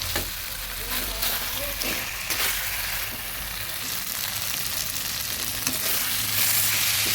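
Fried katla fish head being stirred with spices in a pan for muri ghonto, a steady close sizzle of hot oil with scraping stir sounds running throughout.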